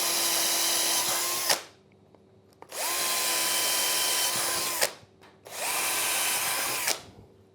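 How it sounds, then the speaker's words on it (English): A power drill bores through the remainder of a piece of wood while trestles are being built, three loud sustained whirring bursts of about two seconds each, separated by short pauses, close up with no talking. "drill through the remainder"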